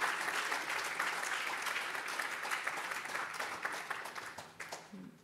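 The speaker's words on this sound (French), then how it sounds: "Je crois qu'on peut l'applaudir." Audience applause at a 2024 round table on education: sustained, dense clapping from a seated crowd, steady and fairly loud, thinning slightly toward the end.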